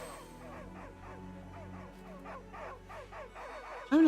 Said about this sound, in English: Why are all these dogs barking at the wall?